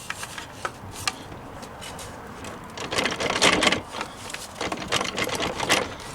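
A mounting block is pulled and worked out of a Unistrut-style metal rail. It gives scraping, rattling metal clicks that start sparse, then build into denser gritty bursts, close by with no talk.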